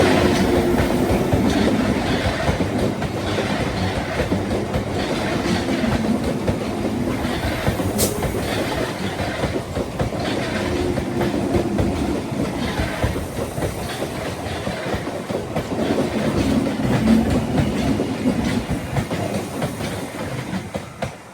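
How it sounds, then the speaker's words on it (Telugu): A local train bound for Tambaram rumbles past on the tracks near Chengalpattu, heard from aboard an express, with a steady loud roar, wheel clatter and one brief high squeal. "లోకల్ ట్రైన్ ఒకటి వస్తుంది."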